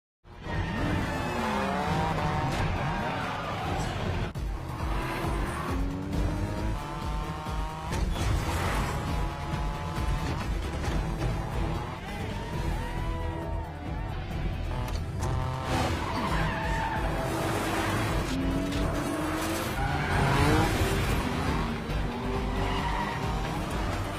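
Race cars in a night drift race from Fast and Furious: Tokyo Drift roar past with repeated long tire squeals and engine revving, loud and continuous, layered with film music.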